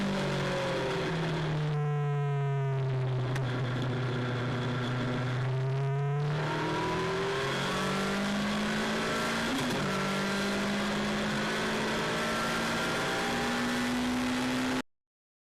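A Legends race car drives on a track, its engine droning in a steady tone that climbs and drops with shifts and throttle changes, close and loud, with brief higher revving bursts.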